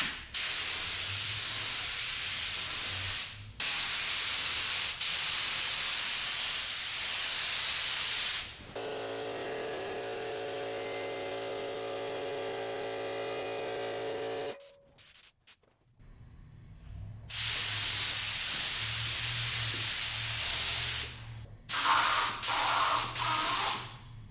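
A spray gun laying high build paint onto the body of a turbo M50-powered BMW E30, loud hissing bursts of several seconds each separated by quieter gaps, with a sharp cutoff midway.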